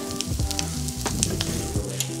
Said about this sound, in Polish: Jak nasze szagówki się smażą